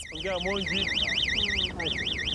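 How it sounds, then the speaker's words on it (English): An electronic lion warning alarm at a Namibian village wails in a rapid rising-and-falling warble, loud and continuous, pausing briefly before it starts again. "When the lions get around 1 kilometer away, the alarm is set off and the light indicates which direction the lion is in."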